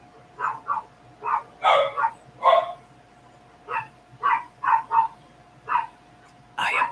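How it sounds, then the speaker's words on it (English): Several dogs barking indoors nearby, a string of about a dozen sharp yips and barks in uneven bursts, fairly loud against a quiet background with a faint steady hum. "I apologize for the dogs barking."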